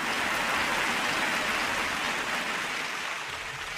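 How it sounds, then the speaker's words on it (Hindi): Dense applause from an audience at a Hindi comic poetry gathering, a steady wash of many hands clapping at once, moderately far and even throughout with no voices over it. "तालियां कम है, थोड़ी मिलके बजे यार"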